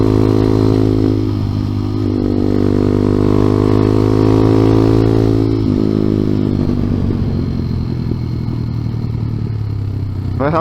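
Honda CT70 clone motorcycle fitted with a ZS 190 engine being ridden, a loud, steady single-cylinder drone that holds a constant pitch, dips briefly, then settles into a slightly lower steady tone, close up with no talking.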